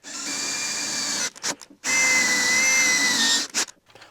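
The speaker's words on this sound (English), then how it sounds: "I'm going to drill a pilot hole right there." A small power drill whines steadily in two bursts, about a second and a half each, with a short pause between, close and fairly loud, drilling a pilot hole in an aluminum meat slicer.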